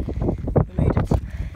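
Gusty wind on a volcano summit buffets the microphone in low rumbling bursts, loud and close, with no other clear sounds.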